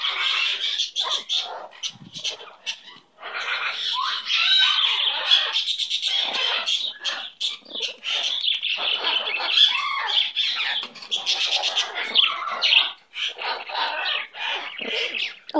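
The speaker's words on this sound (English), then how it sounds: "Oh, what a pretty bird you are." A pet bird chirps and squawks continuously up close, shrill rapid calls and sharp squawks in dense bursts with brief pauses.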